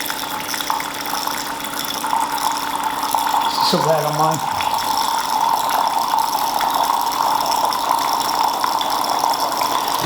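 A DeLonghi bean-to-cup coffee machine dispenses hot water with a steady, continuous gushing hiss and a brief pump whir, while a person speaks briefly over it.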